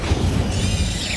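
Incendio fire spell cast in Hogwarts Legacy: a loud, steady roaring whoosh with a deep rumble, sustained for just over a second.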